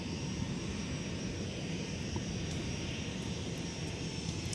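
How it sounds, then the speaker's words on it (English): A Sun Country Boeing 737 jet taxiing at Minneapolis–St. Paul airport, a steady distant engine roar and broad rumble holding level throughout, with no talk. "the 737 that's taxiing on whiskey for Sun Country"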